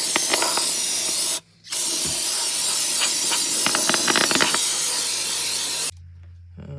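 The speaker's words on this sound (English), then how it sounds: "Let's get all this hosed out. There's a bunch of gunk in there." A spray blast hoses gunk out of a 1969 Chevelle engine with loud, close, sustained hissing that stops briefly, resumes with some crackling spatter, then cuts off to a low rumble.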